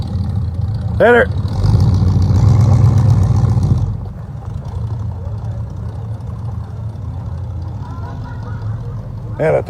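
A first-generation Ford Mustang engine revs loudly for a few seconds, then drops to a steady, throaty idle; a brief voice is heard at the start and again at the end.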